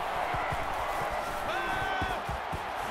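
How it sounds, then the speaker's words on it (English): Stadium crowd at an Arkansas at Alabama college football game in NCAA 14, a steady roaring wash of cheering voices throughout with faint thumps and a brief whistle-like tone partway through. "This crowd is amazing."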